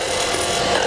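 A lathe gouge scoops through spinning wood while cutting a cove, giving a steady, close, unbroken rasping hiss that holds level for under a second with no voices.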